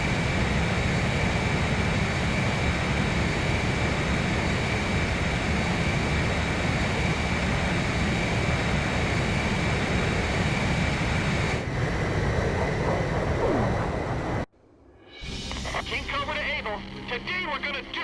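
Jet aircraft engines roar steadily during aerial refueling in the video game Ace Combat 5: The Unsung War. A loud, dense, continuous whine and rush carries on unbroken, then cuts off abruptly near the end into quieter cockpit sounds.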